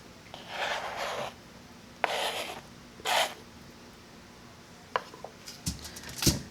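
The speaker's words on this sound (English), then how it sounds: "We're going to use our hands and we're just going to get in there and mix the butter with the flour mixture" Hands rub and squeeze butter pieces into a flour mixture for buttermilk biscuit dough, giving soft gritty rasping bursts in short bouts, close and quiet, with a few light clinks near the end.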